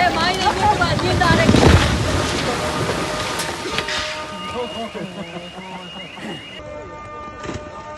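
Heavy rain pours down on a national highway at Cherkala in Kerala amid landslides, a steady dense wash with deep rumbling at the start, continuing under someone talking throughout.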